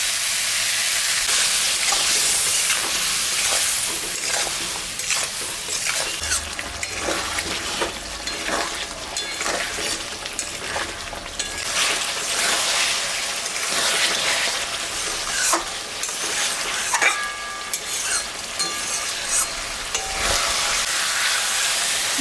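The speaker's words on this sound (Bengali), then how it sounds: "এখন আমি মশলাটা দিয়ে দেবো, আদা, জিরা আর শুকনো লঙ্কা দুই একটা।" Ginger, cumin and a couple of dried chilies fry in a pan with a loud, continuous sizzle, punctuated by frequent clinks and scrapes of stirring.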